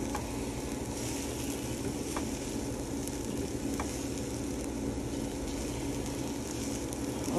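Corned beef hash with diced beef, stirred in a hot pan, gives a soft, continuous sizzle with faint scrapes of the utensil, quiet and steady with no voices.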